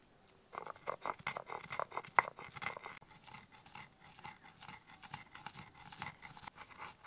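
Roasted spices for sambar, cooled after frying with a pinch of asafoetida, ground to powder in a kitchen grinder; a loud, steady whirring grind with crunching clatter runs throughout after a brief quiet start.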